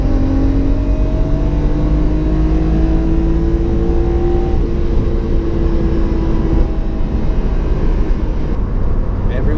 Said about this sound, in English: Misfire. Proper bad. It's running on 5 cylinders.